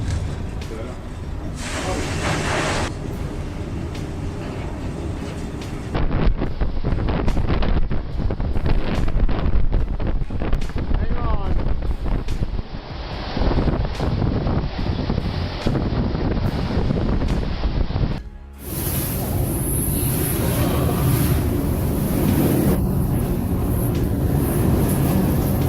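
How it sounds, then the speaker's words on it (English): Giant storm waves and howling wind at sea roar continuously and loudly, with heavy wind buffeting and a sudden brief dip before the rushing noise resumes. "The power of those waves is unreal"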